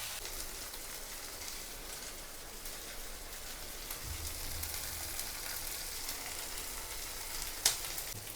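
Chicken leg pieces frying in oil, a soft, steady sizzle and crackle throughout, fairly quiet, with no talking.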